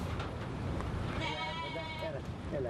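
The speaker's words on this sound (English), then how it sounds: "You see those little lambs over there?" Little lambs in Greece: a wavering bleat rises about halfway through and trails off, with a shorter bleat near the end over a steady outdoor background rumble.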